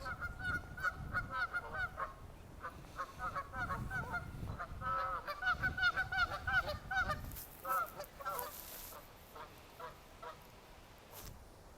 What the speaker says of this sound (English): The geese are signaling.